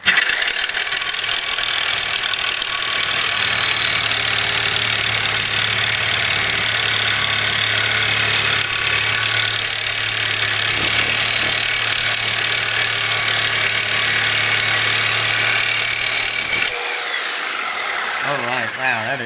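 A reciprocating saw drives its blade through thick stainless steel with a loud, harsh, continuous buzzing rasp and a steady motor drone that runs for about seventeen seconds, then cuts off abruptly, leaving faint rattling.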